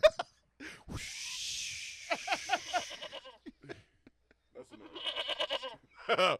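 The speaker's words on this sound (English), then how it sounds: "Screaming goat." A screaming goat sound effect with repeated loud bleating cries, stuttering and wavering, alternating with gaps and short bursts of voices before another shrill outburst.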